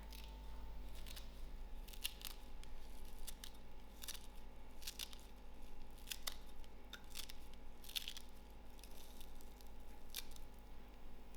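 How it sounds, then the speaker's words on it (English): Fresh coriander (dhania) is cut with scissors for vada pav in a quiet kitchen, a series of faint, crisp snips at an irregular pace over a low steady hum. "To this, I'm going to cut my dhania."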